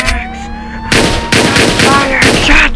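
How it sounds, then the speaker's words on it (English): Rapid gunshots in a Roblox police game ring out in quick succession, loud and close, following a steady electronic tone with no talking. "Shots fired!"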